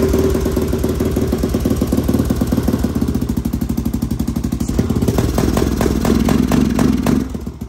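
Yamaha Raptor 660R quad engine running with no air box or air filter, a loud, close, steady thumping single-cylinder chug with mechanical clatter that roughens slightly toward the end.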